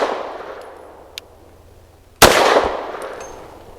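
A single pistol shot from a Rock Island Derya Arms Melik firing Speer Gold Dot 115 grain rounds cracks out loud and close, followed by a short ring-out, with a quieter click earlier.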